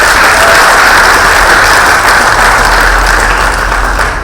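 A career conference audience gives loud, sustained applause, a dense wash of clapping that holds steady and eases slightly at the end.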